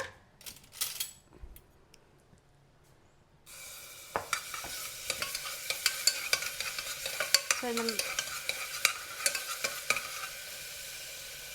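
Ginger garlic paste hits hot oil in a pressure cooker after a few quiet opening clinks, then a loud steady sizzle runs under repeated scraping stirs of a spoon against the metal.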